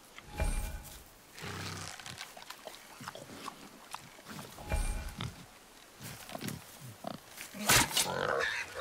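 A wild boar in God of War grunts and snorts in several rough bursts, close and loud, with quieter game ambience between them.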